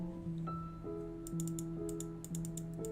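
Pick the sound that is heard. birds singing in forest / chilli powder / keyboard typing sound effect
keyboard typing sound effect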